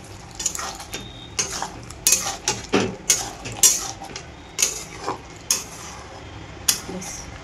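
Soya chunk curry masala mixed with yogurt is stir-fried in a pan over medium flame: a spoon scrapes and knocks against the pan in repeated sharp strokes, close and fairly loud, with no voices.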